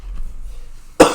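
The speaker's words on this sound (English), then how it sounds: "I'm getting over a cold, which is why I might be coughing" A single short, sharp cough from someone getting over a cold, heard close after a near-silent pause.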